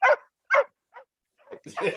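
A dog barks several times in short, loud bursts spaced about half a second apart, then gives a couple of softer yips and whines close by.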